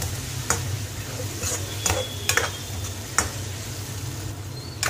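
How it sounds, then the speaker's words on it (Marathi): Fried onion stirred into masala in a pan for paneer tikka masala, with a soft continuous sizzle broken by several sharp scraping strokes of a spoon against the pan, close and clear with no talk. "आता मी हे फ्राय केलेला कांदा एक वाटी याच्यामध्ये घालतो थोडंसं परतून घेतो"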